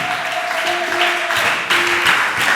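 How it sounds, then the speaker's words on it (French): A church congregation applauding after the Bible reading at an Easter seminar: dense, steady clapping from a crowd fills the whole stretch, with a faint sustained tone underneath. "Aide-moi à acclamer la parole du Seigneur."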